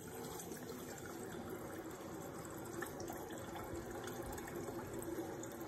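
A refrigerator water line sputters and flows into a cup after a filter change, a faint, continuous trickle and hiss of water with air, steady throughout and without voices.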